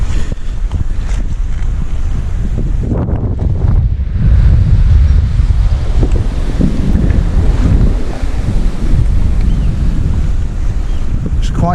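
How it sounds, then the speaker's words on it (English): Strong wind buffets the microphone on the shingle beach at Robin Hood's Bay, a loud, constant roaring rumble with gusty surges and surf washing in the background. "It's quite windy."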